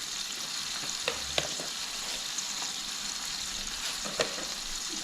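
Pork chops frying in a pan give a steady, close sizzle that runs throughout, with a few light clicks and taps over the hiss.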